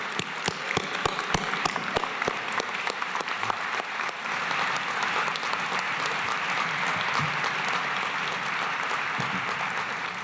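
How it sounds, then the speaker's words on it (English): A town meeting crowd claps, starting with a few sharp scattered claps and swelling into steady, dense applause that carries on throughout. "if you could just stand up and get a round of applause"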